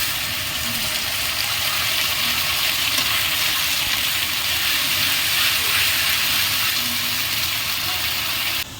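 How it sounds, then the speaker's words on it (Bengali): Spice paste fries with lightly browned onions for an egg masala curry, making a loud, unbroken hiss that stays steady and close, with no voices. "এবারে আমি এই যে মশলাটা পেটে নিয়েছিলাম এই মশলাটা দিয়ে দেবো"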